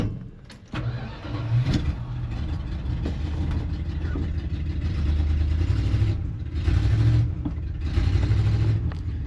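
Retro RAM truck engine with a newly fitted transmission, running close and loud: a rough rumble that swells and eases through several revs, with brief dips before it builds again.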